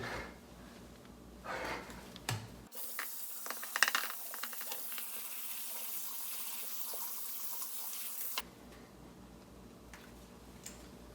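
Canned ingredients for turkey chili are drained together in a kitchen sink, water rushing steadily for several seconds with a broad hiss, framed by quieter clinks and handling sounds before and after.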